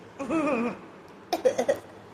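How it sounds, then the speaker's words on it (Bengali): A small child gives a short whiny vocal sound, then after a pause lets out a quick run of three or four close, soft coughs. "কাশি হয়েছে"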